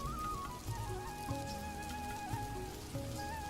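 Heavy rain in a Hindi cartoon scene at a market shop, a steady, dense patter of drops running throughout under soft background music tones, with no voices.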